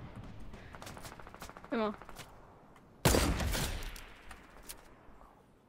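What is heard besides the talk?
gunfire in the video game Fortnite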